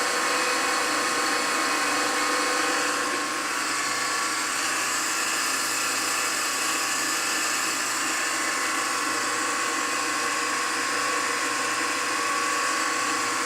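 A Durable CE22AV packaging tape sealer running, a steady loud mechanical whir and hum that holds without pause throughout.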